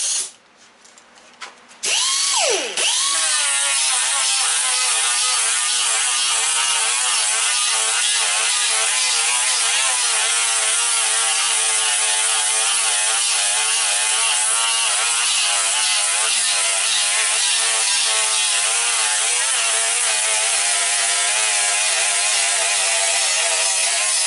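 A machine grinds a part smooth with a steady, continuous mechanical whir and fine rhythmic ratcheting texture, loud and close, after a brief start-up.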